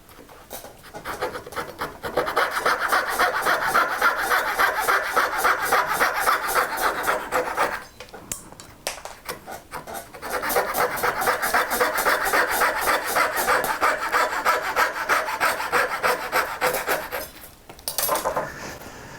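A Knew Concept fret saw cuts dovetail waste in wood with fast, rasping back-and-forth strokes, close and steady, in two long sawing bursts separated by a short pause.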